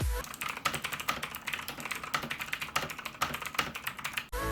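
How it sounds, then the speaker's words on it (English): Rapid, steady clacking of a Motospeed CK103 mechanical keyboard being typed on, close and clear, with a dense rhythm of key presses throughout. "Here's what they sound like."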